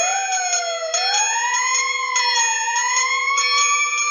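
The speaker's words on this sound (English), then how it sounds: "The alarm bell!" An alarm sounds in a research base during a fire in the animated Tintin adventure Destination Moon, a loud, steady electronic tone that rises and wails slowly with no pause.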